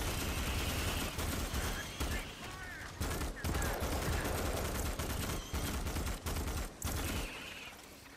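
A SAW light machine gun fires in a video game, dense sustained automatic bursts broken by short pauses, loud and close throughout with other gunfire mixed in.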